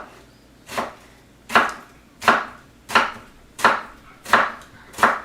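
A knife slices thinly through a tomato on a cutting board for a gluten-free veggie pizza, seven crisp, evenly spaced cuts landing close and clear with no talk.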